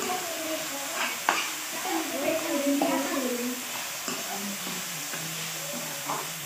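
Chicken frying in a pan with tomato, cumin seeds, black pepper and coriander, stirred now and then, giving a steady sizzle with scraping utensil knocks and a voice talking over it.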